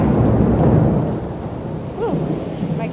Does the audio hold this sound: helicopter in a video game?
no